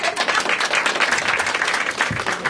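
Audience at a Marathi stand-up comedy show clapping, a dense, steady burst of applause filling the room for a couple of seconds.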